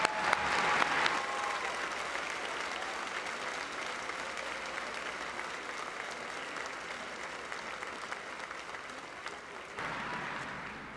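A crowd claps at a high school graduation ceremony, broad sustained applause that holds steady for several seconds, then dips briefly before picking up again near the end.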